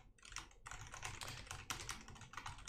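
Typing on a computer keyboard while writing Rust code, a close, steady stream of rapid clicky keystrokes in irregular bursts, with no speech.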